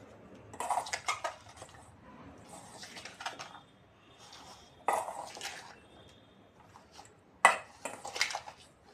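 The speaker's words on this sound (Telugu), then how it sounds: "ఆ ఉప్పు కారం అంతా క్యాబేజీ ముక్కలకు పట్టేలా కలుపుకోవాలండి." Chopped cabbage is mixed with salt and chili powder in a bowl, producing intermittent clinks and scrapes of a utensil against the dish, with quiet gaps between bursts.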